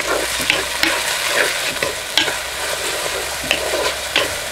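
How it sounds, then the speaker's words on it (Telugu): Tomatoes and green peas fry in a pan with a dense, loud sizzle, broken by repeated scraping stirs and sharp spoon knocks at an uneven rhythm. "ఇది మొత్తం 1 నిమిషం వేగిన తర్వాత టమాటాలు, పచ్చి బఠానీ కూడా వేసేసుకుందాం."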